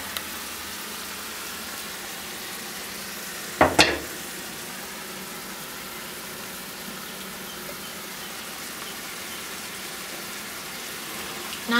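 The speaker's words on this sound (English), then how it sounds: "Then we can just stir our spaghetti, which already almost seems cooked" Spaghetti simmering in a pan of sauce gives a steady low bubbling hiss, broken once by a short sharp scrape of stirring, then continuing quietly.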